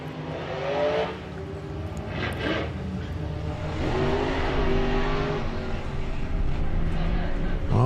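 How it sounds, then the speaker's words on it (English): Drag race cars launch and accelerate down the strip at a Greenlight Nationals eliminations event, engines droning loudly and continuously with rising pitch sweeps, over steady crowd and track ambience. "we've got a Greenlight drag race"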